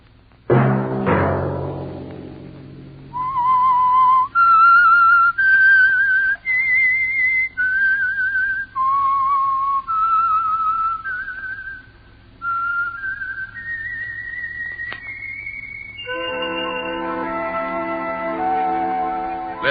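A lone whistled melody, the signature theme of the Signal Oil radio mystery program The Whistler, rising and falling in clear sustained notes and short phrases, loud and close, ending as a second tonal line enters alongside it.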